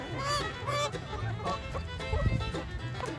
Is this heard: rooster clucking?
yes